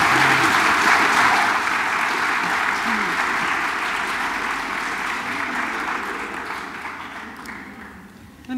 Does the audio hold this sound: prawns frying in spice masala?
no